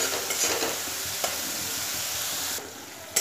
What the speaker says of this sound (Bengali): সব কিছু দিয়ে ভালো মতো নাড়াচাড়া করে মিশিয়ে এবার মশলাটাকে ভালো করে কষিয়ে নেব